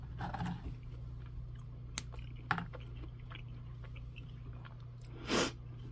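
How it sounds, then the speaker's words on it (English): Someone chewing a bite of MRE turkey tetrazzini, with quiet, close mouth sounds and a few small crunches over a low steady hum, ending in one brief louder noise. "Here's another bite of this yummy food."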